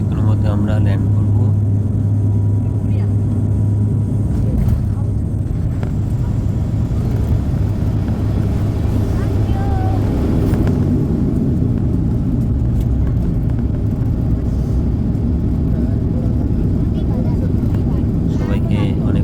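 Inside the cabin of a domestic flight over Nepal on its descent, a loud, constant engine drone fills the whole stretch, with a voice speaking over it.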